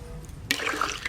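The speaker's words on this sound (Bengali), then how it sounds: "এবার সেদ্ধর জন্য জল দিয়ে দেবো।" Water is poured into a pan of fish curry for boiling, a brief soft splashing pour that starts abruptly halfway through and continues steadily over low room noise.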